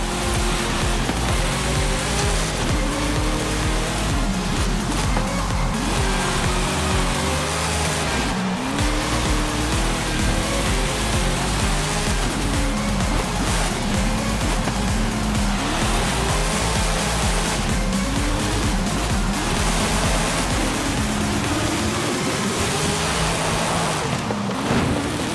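Engine roar and repeated tire squeal and skidding from a car in a cross-country race in the video game Forza, loud and continuous with shifting engine pitch and no talk.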